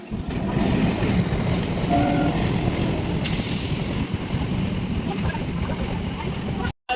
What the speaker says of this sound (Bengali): তো একটা মালগাড়ি যাচ্ছে, তো একটা ভিডিও করে নিলাম। ফসফস ফসফস করে বেরিয়ে গেল, অনেক বড় ট্রেন।